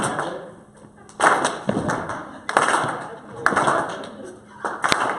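A group clapping together in rhythm during a music session, with bursts of hand claps landing in regular cycles and short pauses between them, while a voice talks in the background.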